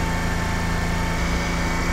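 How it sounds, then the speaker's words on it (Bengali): A motorcycle engine held at raised revs, around 3000 rpm, during a spark plug and fuel consumption check, droning steadily and loudly at close range without a break. "বাইকের আরপিএম খুব ভালোভাবে বেড়ে গেছে।"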